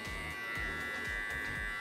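An electric hair clipper with a half guard buzzes steadily up close while cutting a fade, with a high whine over a rhythmic low pulsing as it passes through the hair.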